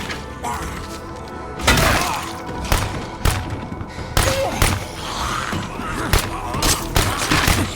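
Gunfire in the video game State of Decay 2: several loud, sharp shots spaced irregularly over a few seconds, mixed with thuds, crashes and impacts against a busy game soundscape.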